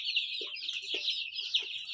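Desi chickens clucking nearby on a naturally raised farm, several short soft clucks over a continuous high insect-like buzz, fairly quiet and with no talking.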